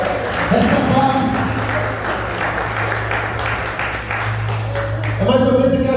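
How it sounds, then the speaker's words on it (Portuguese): Church congregation applauding during a worship service, steady dense clapping with crowd noise and a low sustained musical drone throughout, swelling slightly toward the end. "Você pode aplaudir o Senhor em nome de Jesus."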